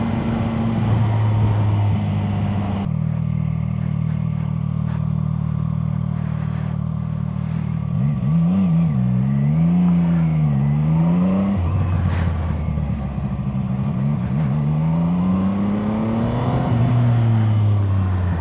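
A Chinese motorcycle's engine revs up and down repeatedly while being ridden, its pitch rising and falling in several surges over a steady, loud drone with some clatter.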